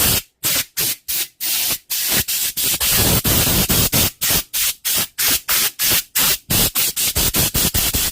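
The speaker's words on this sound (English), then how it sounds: "we're going to just give it a blow out with the airline" Repeated loud bursts of compressed air hissing in short blasts, some quick and choppy, others longer, with brief silent gaps between them.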